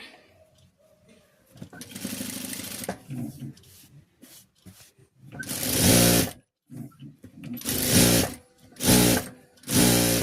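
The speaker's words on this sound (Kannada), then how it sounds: "ಆಮೇಲೆ ಈ ಥರ ಇನ್ನೊಂದು ಸ್ಟಿಚ್ ಹಾಕ್ತೀನಿ" Sewing machine stitching the lining edge of an embroidered blouse, running in several loud bursts of rapid stitching separated by pauses and quieter handling noise.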